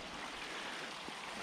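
Small waterfall on a Scottish mountain, Buachaille Etive Mor, giving a steady, soft broadband rush of falling water heard at a distance, faint and unbroken with no voices.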